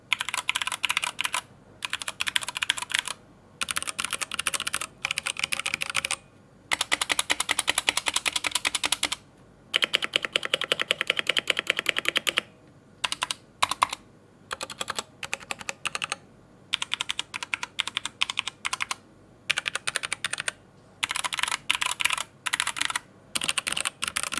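Typing on a Press Play Voyager68 mechanical keyboard fitted with Gateron Brown switches, close and crisp, with rapid bursts of keystrokes broken by short pauses over about twenty-four seconds.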